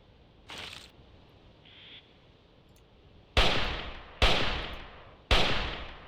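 Three loud, evenly spaced SPAS shotgun blasts in the prehistoric hunting game Carnivores Triassic, each with a decaying echo, following a couple of quieter distant calls.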